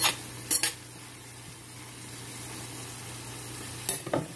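Kale and onions sauteing in olive oil, a low steady sizzle under a few sharp clinks and scrapes of a utensil against the pan near the start and end.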